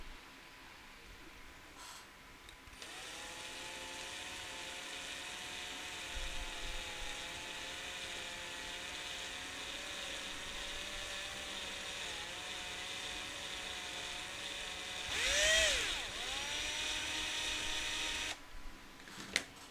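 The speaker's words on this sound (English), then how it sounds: "I drilled a bit. I think I'll go also a bit from the other side to not make a blowout on this thing." A small drill bores into a model hover tank prototype part, a faint steady whine holding for long stretches with a brief louder surge near the end, no voices.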